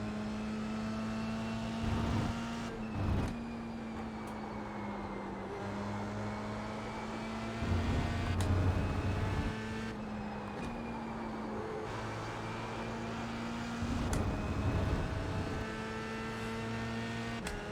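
An F3 race car engine at the Red Bull Ring, heard as a steady droning whine that holds a pitch and shifts with gear changes, with short louder surges, moderately loud and continuous.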